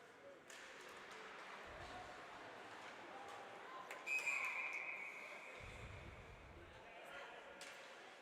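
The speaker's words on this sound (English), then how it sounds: "Another whistle." A referee's whistle at a college women's ice hockey game between The College of New Jersey and New York University sounds as a brief, sharp tone amid rink crowd ambience, with a commentator talking over it.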